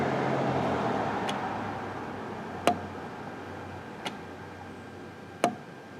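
The canister vent valve on a Nissan Frontier clicks in sharp, isolated ticks spaced a second or more apart over a low steady engine-bay hum, with no speech.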